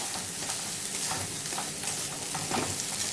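Spiced country chicken curry sizzling loudly in a pan over medium heat, a dense continuous frying hiss with repeated soft scrapes of stirring, close and steady throughout.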